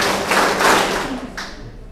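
A large group claps hands together in a rhythm clapping game during a student orientation session, with a dense burst of thudding claps followed by a shorter, fainter burst.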